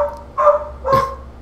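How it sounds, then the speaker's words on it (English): A pet dog barks indoors, two loud, close barks about half a second apart with faint whimpering between them. "Sorry, my dog's barking."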